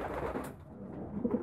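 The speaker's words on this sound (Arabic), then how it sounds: "شوف الحمامة بتشرب، بسم الله ما شاء الله بتشرب شرب" A pigeon coos softly while drinking, a low murmuring call at moderate distance over faint background noise, with a brief brighter scratchy sound partway through.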